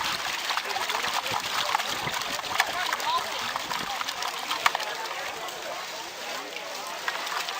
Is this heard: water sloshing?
yes